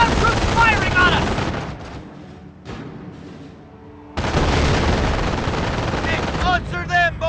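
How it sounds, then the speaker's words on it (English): Ground troops exchange gunfire in Company of Heroes, with dense bursts of rifle and machine-gun fire, a brief lull in the middle, then renewed heavy shooting. "We got ground troops firing on us!"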